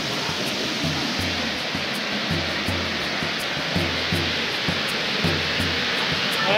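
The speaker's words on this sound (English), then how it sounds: "this is a weir here, guys. I believe, or the waterfall" A weir waterfall on Stoney Creek flows in a loud, constant broadband rush of water, close and unbroken, with a faint periodic low thumping beneath.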